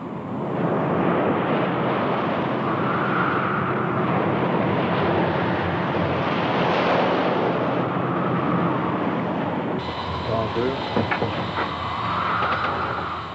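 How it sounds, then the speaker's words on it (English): Storm-force wind at sea rising toward 100 knots, a loud, continuous roaring rush with surging swells of noise and buffeting against the microphone, waves and gusts blending into one heavy wash for the whole stretch. "On the third day, the wind goes up to 100 knots, 120 miles an hour."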